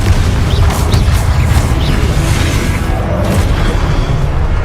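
Fiery Confringo spell blasts in the Hogwarts Legacy video game give a loud, continuous booming roar with crackling bursts layered over a dense low rumble, close and sustained throughout.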